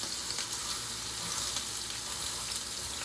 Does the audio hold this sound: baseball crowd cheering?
no